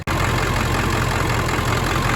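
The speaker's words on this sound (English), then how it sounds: "You might even hear that it's running kind of odd because all the injectors are bad." The engine of a two-wheel-drive 1999 Ford F-250 pickup, running rough on bad injectors, idles steadily and loudly up close with a low, continuous rumble and no talk.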